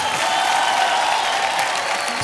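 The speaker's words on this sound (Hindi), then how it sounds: "तालियां" A studio audience on a Hindi TV game show claps continuously, a dense, even wash of applause throughout.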